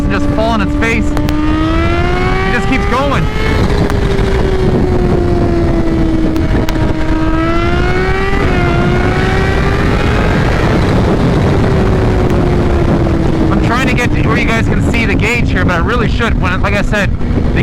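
A 2021 Kawasaki Z H2 motorcycle pulls hard in second gear, its engine note climbing steadily with a couple of brief dips, loud and close over constant wind rush.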